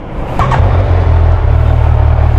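A 2023 Kawasaki Z1000 R on its stock twin left-and-right exhausts gives a deep, steady engine rumble close by, fairly loud and even over a couple of seconds, with a brief sharper noise near the start.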